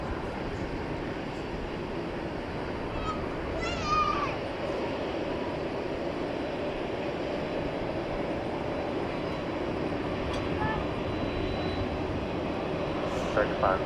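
An American Airlines jet departs from DFW Airport at night, its engine roar a steady, broad rumble at a distance that holds throughout with little change.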